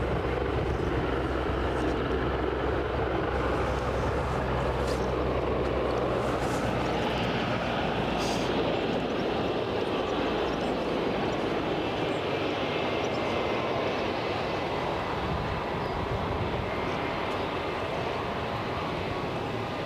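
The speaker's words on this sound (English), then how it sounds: "We've got another Loganair ERJ 145 just coming out as well" A Loganair ERJ 145 jet taxis at Aberdeen airport, its engines producing a loud, steady, continuous roar that holds without a break for the full stretch, while a person talks intermittently over it.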